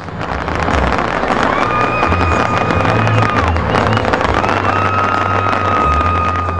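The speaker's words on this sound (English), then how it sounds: "His performance led into everyone's Canada Day favorite, the fireworks." Canada Day fireworks exploding over Mississauga, loud continuous crackling and booming bursts with whistling streaks, under a cheering crowd in the distance.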